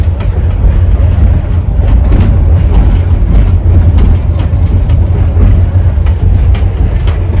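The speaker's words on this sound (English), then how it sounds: "It is probably coming across as quite like rickety on this train." A sleeper train in Vietnam, running from Nam Dinh to Vinh, rumbles and rattles on the rails in a steady, loud, continuous low roar with faint clicks on top and no voices.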